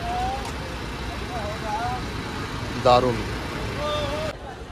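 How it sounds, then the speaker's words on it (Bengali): A new Volvo 9600 luxury coach idles at a Kolkata bus stand with a smooth, steady low engine hum beneath a man's brief remark and some faint background noise. "আপনি নতুন বাসের ইঞ্জিনের সাউন্ড শুনতে পাচ্ছেন"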